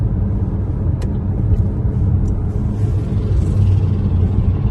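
A car rumbles past on a road during an early Monday morning commute, a steady low engine and tire drone that swells slightly and stays close, with no talking.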